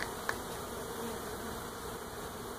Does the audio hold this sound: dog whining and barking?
no